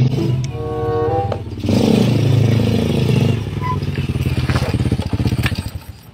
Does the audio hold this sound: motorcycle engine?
yes